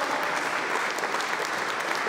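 Audience applause at a political rally in Poland, a dense, steady clapping that fills the whole stretch at an even level with no talk over it.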